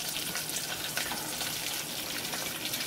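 Steady, bright sizzle of green chillies and garlic frying in hot oil as asafoetida goes in, close and constant with faint stirring.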